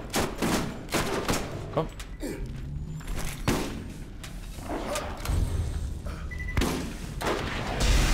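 Submachine gun fire in the Borderlands shooter game, with repeated sharp bursts and thudding booms across the whole stretch, fairly loud, with a brief spoken word mixed in.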